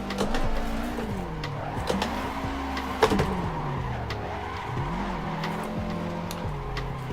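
A car drifting through a 360 spin in the Assetto Corsa video game, engine revving in repeated rising and falling sweeps with tire squeal and skidding, steady and moderately loud.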